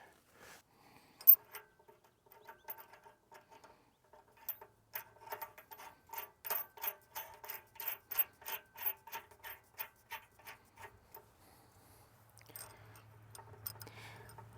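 Nuts on U-bolts being tightened with a ratchet during a vintage dragline crane restoration, a long run of quick rhythmic clicks in bursts, close and fairly quiet, with a few brief pauses.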